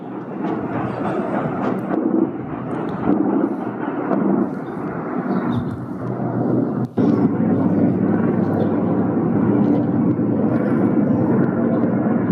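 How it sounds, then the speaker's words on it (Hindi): A patrol helicopter roars loudly and steadily overhead in Balochistan, a continuous heavy rumble with no break throughout. "ये हेलीकॉप्टर से पेट्रोलिंग कर रहे हैं और ये सिर्फ हवा में घूम रहे हैं।"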